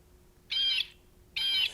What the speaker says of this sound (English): I'm going to squeeze the blue jay.